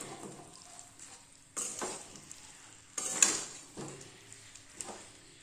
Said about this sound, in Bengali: সয়াবিনের তরকারিটাকে ভালো করে কষিয়ে নিচ্ছি